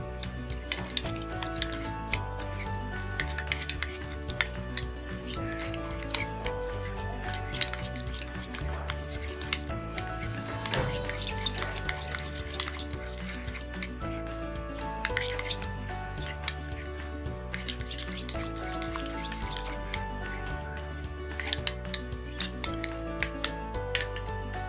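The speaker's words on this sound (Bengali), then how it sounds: "এখন এই পুরো মিশ্রণটিকে খুব ভালো করে মিক্স করে নিব।" Spoon stirring an avocado face pack with honey and milk in a bowl, giving steady scraping and clinking throughout, fairly close and continuous.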